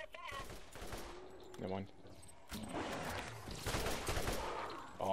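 Rapid bursts of gunfire from the video game Borderlands, loud and dense, with short pauses between volleys. Someone talks over the shooting.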